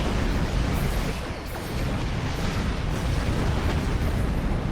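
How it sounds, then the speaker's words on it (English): A ship explodes in the Star Trek Online space game, a sustained dense roaring blast that fills the whole stretch at steady loudness with no talk. "Got too close to another explosion."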